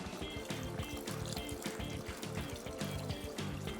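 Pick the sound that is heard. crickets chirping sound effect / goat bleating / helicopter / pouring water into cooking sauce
pouring water into cooking sauce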